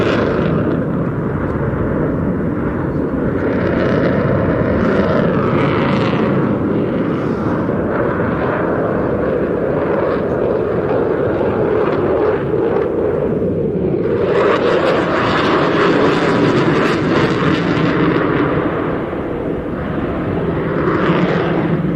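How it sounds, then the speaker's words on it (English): A jet aircraft performing at an evening air show with afterburner engaged: a loud, continuous, roaring rumble that swells and surges as the reheat cuts out and comes back on, filling the air throughout. "Now watch as he's slowing the aircraft down. Reheat is off. Coming back in. Now reheat's back on."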